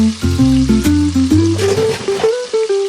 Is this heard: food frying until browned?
yes